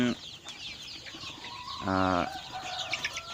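Six-week-old Hy-Line Brown laying hens cluck softly in a farm shed, with one louder, drawn-out harmonic call rising above the low, continuous chatter of the flock.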